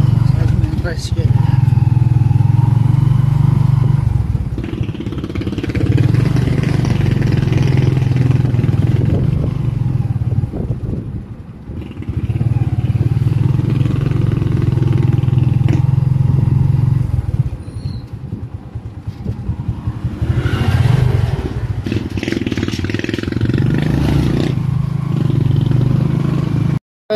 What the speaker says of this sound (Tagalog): Sakay na kami ng tricycle.